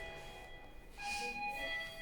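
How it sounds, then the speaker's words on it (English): A hospital electronic doorbell rings once, a sustained bright tone lasting about half a second, fairly clear over a quiet room. "That's the bell at the hospital, the doorbell."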